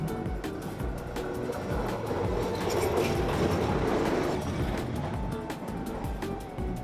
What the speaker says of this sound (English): And every so often, a train rolls straight through the middle of it all.